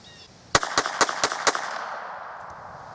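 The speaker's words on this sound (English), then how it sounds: "So let's see if this thing is able to sustain rapid fire." Five sharp shots from a Raven Arms MP-25 pistol fired in quick succession, evenly spaced over about a second, loud and close with a short echo fading afterward and no talking.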